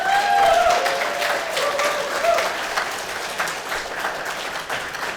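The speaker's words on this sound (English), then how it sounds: "please give a big round of applause" A big round of applause from a conference audience, dense continuous clapping at a steady level with cheers and a few voices rising above it early on.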